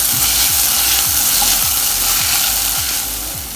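Onion with crushed ginger and garlic sautéing in a pan for an egg kurma, a steady close frying sizzle with faint stirring scrapes and no voices.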